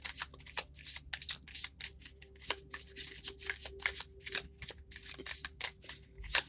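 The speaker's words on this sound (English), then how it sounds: "I always pre-shuffle my cards before I do my readings" Tarot cards are riffled and shuffled by hand in quick, repeated papery bursts, close and clear, with a faint steady hum underneath and no talk.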